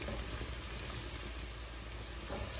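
Onions frying and being stirred in a pan give off a dense, steady, close hiss of sizzling oil with no break and no voices.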